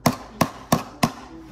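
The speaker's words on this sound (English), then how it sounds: "Hit it with the hammer straight down." Short nails are hammered into wood in four sharp, evenly spaced close strikes, each a bright knock that decays quickly, no voices.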